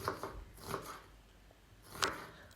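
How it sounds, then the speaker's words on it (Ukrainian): A knife cuts young, juicy onion into half rings on a board, giving a few faint, crisp slicing taps spaced irregularly, close and quiet with no talk. "Я купила вже молоду цибулю і зараз нарізаю її напівколечками"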